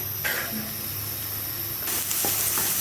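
Onion and green chili fry in hot oil, a steady close hiss with a louder surge of sizzling near the end and a few stirring clicks.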